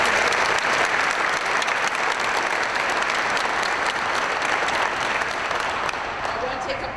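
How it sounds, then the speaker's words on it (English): Dense, sustained applause fills a gathering during Governor Rick Scott's visit to AeroTurbine, a Miramar business, many hands clapping loudly and evenly for the whole stretch, with a few voices blended in. "Can we give a round of applause to our"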